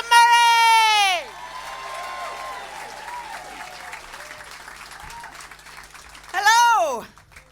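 Audience applause and cheering greet a comedian walking on at a comedy benefit show, a sustained wash of clapping sandwiched between loud, drawn-out vocal whoops at the start and end.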